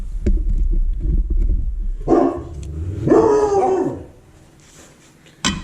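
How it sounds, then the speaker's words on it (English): Dogs bark nearby in a few loud, separate barks and yips, with one ending on a drawn-out whine and a last sharp bark at the end, over low background rumble. "See what the dogs are barking at."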